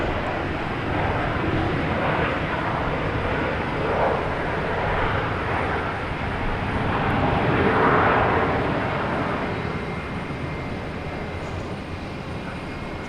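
A JetBlue Airbus A320 jet airliner at Boston Logan Airport gives off a broad, steady roar, moderately distant, swelling slightly and then easing off, with no talk over it.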